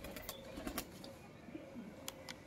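Faint, soft cooing from a male teddy pigeon kept by a hobbyist, set against a steady hum with a few brief high chirps and light rustles.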